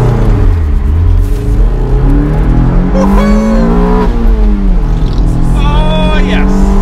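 A car engine fitted with an induction kit revs hard, its pitch climbing and falling with each throttle blip, with a deep intake roar close by.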